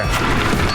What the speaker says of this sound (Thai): คือผมก็รู้สึกลำคาญเสียงก่อสร้างนะ